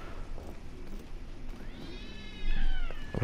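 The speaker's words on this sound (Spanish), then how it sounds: "acabo de escuchar un gato." A cat meows in The Order: 1886 video game: a single drawn-out, rising and wavering meow near the end, set against a low, murky ambient game background, with no talking.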